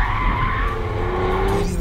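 A Kia Stinger GT brakes hard and slides its rear, a loud sustained tire squeal over engine noise that shifts and rises in pitch toward the end.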